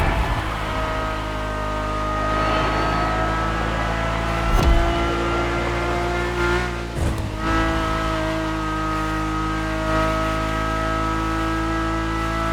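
Carbon fiber monocoque race car in The Crew Motorfest holding a steady, loud engine drone with layered harmonics, broken by two brief surges or gear shifts midway, with no voices.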